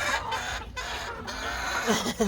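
Backyard chickens cluck close by in an urban garden, fighting over grapes, several short bursts of clucking with a brief squawk near the end and some quiet voices in the background.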